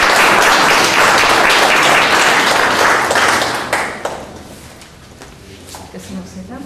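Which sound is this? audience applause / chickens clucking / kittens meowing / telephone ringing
audience applause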